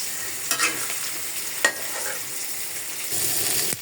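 Beef being stir-fried (kosha) in a pan gives a steady, fairly quiet sizzle with a few sharp scraping clicks from stirring, swelling slightly louder near the end.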